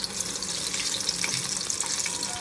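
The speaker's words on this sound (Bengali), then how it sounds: "একে একে চিকেনের পিসগুলো সব দিয়ে মিডিয়াম ফ্লেমে রেখে আমি এগুলোকে ওলট পালট করে সব ভেজে" Chicken pieces frying in oil over a medium flame give off a continuous bright sizzle with crackling spatter, steady and close throughout.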